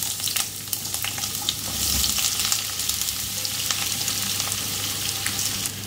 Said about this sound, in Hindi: अब ये सब्ज़ी इसमें डालूँगी मैं।